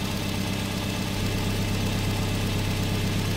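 A Toyota minivan engine idles steadily during a PCV valve check, a close, even low rumble with a constant hum and no voices.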